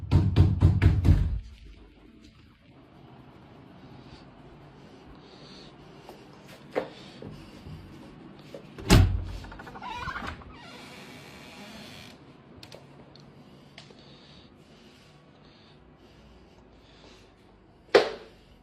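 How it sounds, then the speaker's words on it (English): Scattered knocks and thumps sound from somewhere inside a house in a played recording, a few sharp isolated hits spaced irregularly across long quiet stretches filled with faint shuffling and creaking. "Mysterious knocking noises can be heard coming from somewhere inside of the house."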